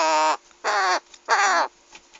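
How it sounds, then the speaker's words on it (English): Rooks cawing close by in three loud, drawn-out harsh calls, each about a third of a second long, with short gaps between them and a fainter call trailing at the end. "You cheeky birds."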